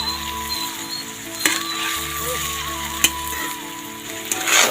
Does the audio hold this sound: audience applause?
no